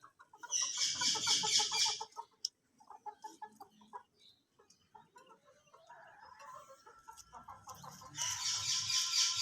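Hens and a rooster in a village coop clucking and squawking while being fed, with loud bursts of agitated calls at the start and end and scattered softer clucks between.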